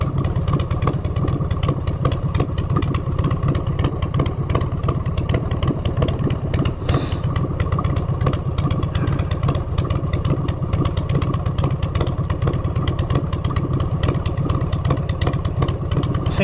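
A motorcycle fitted with a Vance and Hines exhaust idles in neutral, its steady low rumble and clattering pulses loud and close throughout with no talk.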